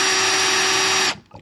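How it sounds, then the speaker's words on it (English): Power drill driving screws into an electrical outlet box, a loud steady whine with a strong tonal hum held for about a second before cutting off abruptly, close up. "And grab my drill."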